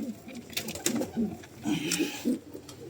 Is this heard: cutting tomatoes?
no